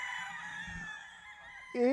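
Gamefowl on a gamefarm, a rooster kept with seven hens, giving a drawn-out crowing call followed by a sharp louder cry at the end, fairly close with faint background noise.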